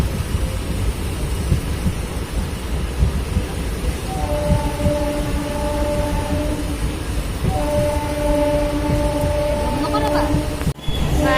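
A ride aboard a moving passenger train, with a steady low rumble of the carriages and wheels and a sustained horn-like tone sounding in the middle and again later, ending with a sudden break; voices murmur faintly beneath.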